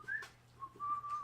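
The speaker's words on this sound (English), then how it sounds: "as I'm whistling" A person at a tabletop Dungeons & Dragons session gives a brief, quiet two-part whistle, with one rising note followed by a steady held tone.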